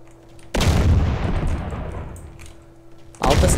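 Gunfire and explosions in the video game DayZ, played on an MTA server in Bayside. A booming blast hits, rolls off in a long rumbling decay, then a second heavy shot lands near the end. Both are loud and close.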